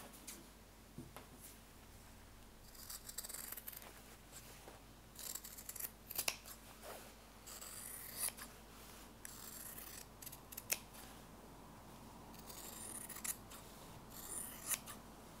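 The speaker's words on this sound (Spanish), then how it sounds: "Primero voy a cortar por aquí, por la costura" Scissors snip through fabric along a seam while making a flower-neckline top, a series of close, quiet crisp cuts in irregular bursts with faint rustling between them.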